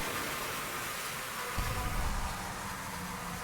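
A swarm of bees in the video game Sunless Skies buzzes as a dense, steady hiss, swelling slightly halfway through with a low rumble, loud and continuous with no voices.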